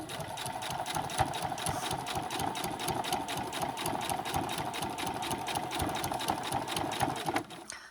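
Sewing machine top-stitching backpack straps, a fast steady mechanical chatter of rapid stitches close by, running continuously before stopping abruptly near the end.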